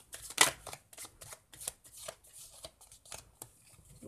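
Playing cards shuffled by hand during a simple magic trick, a run of soft riffling and sliding bursts with brief pauses, close and moderately quiet.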